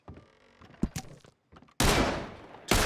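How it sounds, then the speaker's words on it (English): Loud bursts of gunfire in a violent shootout, two heavy sustained volleys close by, the second cut off at the end, following scattered thuds and brief shouted voices. "I'll riddle you with bullets!"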